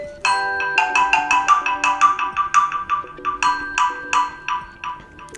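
A bright, cheerful ringtone on a TP-LINK Neffos C7s phone plays a quick melodic pattern of tinkling notes, loud and close, with no talking.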